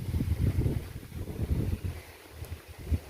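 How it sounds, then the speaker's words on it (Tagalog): Strong wind buffeting the microphone outdoors, gusty low rumbling bursts that rise and fall unevenly, fairly faint overall. "Hangin lang yung malakas."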